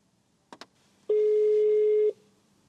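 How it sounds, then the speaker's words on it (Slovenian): A Ford Puma's eCall emergency call system: two short clicks, then a loud, steady one-second ring tone from the car's speakers, followed by quiet, heard alone without talk. "An emergency call is being placed."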